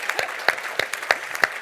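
An audience at a conference lunch claps in sharp, irregular bursts that are close and moderately loud. The applause is brief and scattered rather than a sustained ovation.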